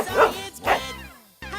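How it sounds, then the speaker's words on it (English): Neighbor's dog barking in a children's cartoon, two quick close woofs followed by a short whine, with music playing underneath. "It's a dog."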